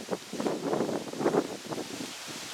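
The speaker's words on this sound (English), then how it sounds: "Pretty windy today" Strong wind gusting across an outdoor garden beside a road with nearby construction, blowing sand and dirt, buffeting the microphone in low rushing bursts with a rustling edge.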